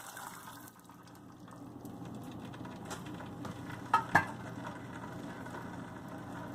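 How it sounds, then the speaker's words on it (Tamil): Tamarind water pouring into a pot of ajwain rasam, a steady liquid gush and fill sound lasting several seconds with two brief sharper splashes midway, close and moderately loud, no talking. "அது கூட இப்போ கரைச்சி வச்சுருந்தா புளி தண்ணியை ஊற்றிடலாம்."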